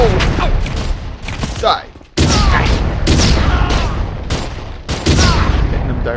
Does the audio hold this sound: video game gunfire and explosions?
yes